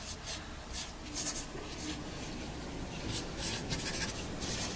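Pencil scratching across paper while sketching a comic page of a cat character, a steady close rubbing and scraping with short bursts of quicker strokes, alone without talk.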